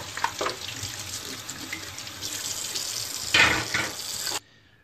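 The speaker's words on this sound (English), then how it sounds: "Rinsing it with the hot water." Hot water runs steadily from a tap as a remote control, just washed with dish soap, is rinsed beneath it, the splashing shifting and swelling as the remote moves through the stream before the flow stops abruptly.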